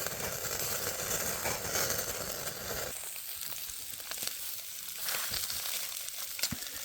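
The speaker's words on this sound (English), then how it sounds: "just to give that garlic a quick cook, so we're not eating raw garlic" Marron and garlic sizzle in a hot pan at a free camp in Donnybrook, Western Australia, with loud steady frying that drops a little partway through as the pieces are flipped.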